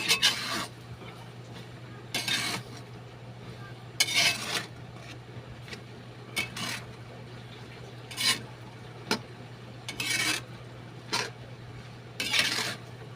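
A spoon scrapes and clinks against a pot while beef offal bopis is stirred, coming in short separate bursts spread over the clip above a steady low hum.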